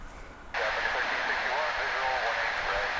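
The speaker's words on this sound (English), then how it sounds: "We have an aircraft which is getting ready to take off." An American Airlines jet preparing for takeoff at DFW International Airport, its engines suddenly swelling into a loud, steady roar after a quiet start and holding strong to the end.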